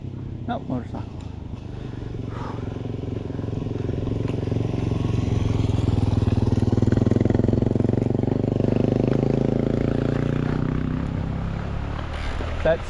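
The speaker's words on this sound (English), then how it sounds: "Sounds like a four-wheeler. Nope, motorcycle." A motorcycle passes on a gravel trail, its engine drone swelling gradually to a peak midway and then fading, steady and fairly loud throughout with no voices over it.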